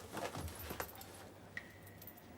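Keys jangle in a comedy scene, a few light metallic rattles and clinks early on followed by a brief bright chime, fairly faint and close with no talk over them.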